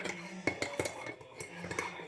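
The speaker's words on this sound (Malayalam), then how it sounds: "ഓക്കെ, ഞാനൊന്ന് ഇളക്കുവാണ്." A spoon stirs sugar into tea in a cup, giving quick repeated metallic clinks and scrapes against the sides, close and fairly loud, with no talking.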